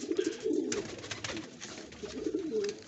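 Pigeons coo softly and repeatedly in the background while a red-eyed pigeon is held up and shown, its low murmuring calls steady across the moment.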